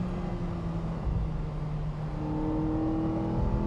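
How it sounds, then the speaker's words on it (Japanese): A car engine revs while driving a winding road, giving a bold, throaty note that rises and falls in pitch at moderate loudness with no voices over it. "迫力のある音、給排気系がなんか変わってんじゃないかっていうぐらいなんか勇ましい音しますね"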